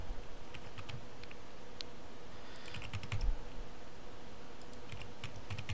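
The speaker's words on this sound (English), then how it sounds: "If you type in ECFC," Soft keystrokes clatter on a computer keyboard while a code is entered into a Bloomberg terminal, irregular clusters of clicks against a quiet background, with no voices.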